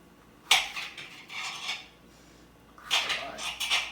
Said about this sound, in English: Now I'm going to get a knife. All right, let's go ahead and start chopping everything up.